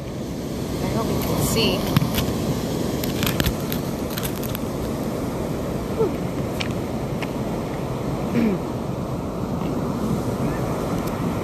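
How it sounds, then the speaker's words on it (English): Ocean surf washes in continuously at an outdoor shoreline, a steady broadband roar mixed with wind buffeting the microphone, while a person speaks briefly over it. "Those waves are killer right now."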